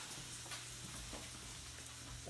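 A Cuban sandwich with mustard sizzles in a hot sandwich press, a steady close crackling hiss with occasional louder pops.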